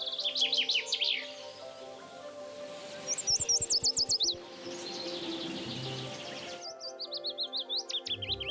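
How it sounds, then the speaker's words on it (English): Birds singing in a forest: several bursts of rapid, high chirping phrases separated by pauses, with a steady insect or cricket hum underneath and some low rustling between songs. "The most renowned animal vocalists are the birds."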